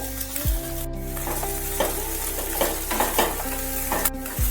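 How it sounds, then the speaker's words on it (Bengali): Fried okra tipped into a hot pan of spiced masala and stirred, giving a steady close sizzle with scraping stir strokes and a few clinks of the spatula, no voices. "এবার ভেজে রাখা ঢ্যাঁড়স দিয়ে দিলাম এর মধ্যে।"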